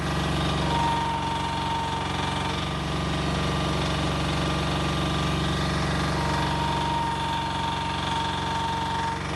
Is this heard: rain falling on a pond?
no